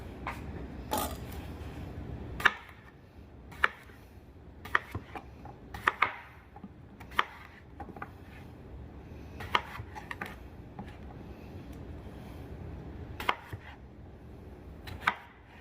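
A knife chops potatoes on a cutting board for vegan split pea soup: scattered crisp knocks, some in quick pairs, over a steady low room hum with no talk.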